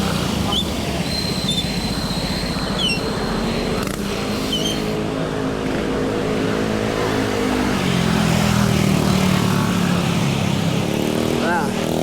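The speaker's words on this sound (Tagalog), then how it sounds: "Ingay ng tambutso." A loud engine rumbles and revs up and down, a motorcycle exhaust roaring close by with a rising tone near the end.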